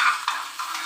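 Tempering spices and dried red chillies in hot oil for a ragi flour breakfast, a bright continuous sizzle with small crackling swells, close and loud.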